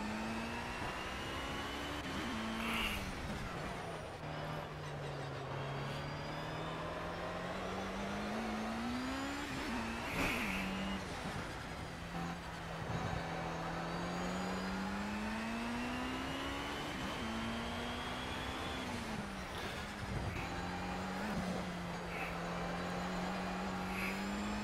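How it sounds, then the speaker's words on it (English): LMP2 prototype race cars roar around the track in the racing video game Project Cars, with engines rising and falling through repeated gear shifts and a steady, loud drone over roughly twenty-five seconds. There is no talk. "No, these are LMP2 cars."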